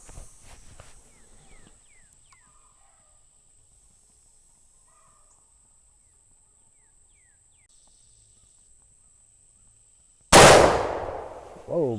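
A single loud, sharp gunshot from an 1874 Shiloh Sharps rifle in .50 calibre, firing a 350-grain bullet over smokeless powder, bursts out after a long near-silent pause, followed by a brief echoing tail.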